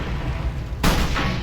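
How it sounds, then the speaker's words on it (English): A shotgun is fired at a lawn mower in the film The Straight Story: a single sudden, loud blast with a short rumbling tail follows steady background noise. "he goes out and he fucking shoots the mower with the shotgun"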